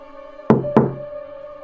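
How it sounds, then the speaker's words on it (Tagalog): Two sharp knocks on a door, close and distinct with a short gap between them, ringing briefly over a steady low tonal drone. "Ang mga kamay niya'y nakadikit sa aking pintuan at dahan-dahan niyang tinapik ito."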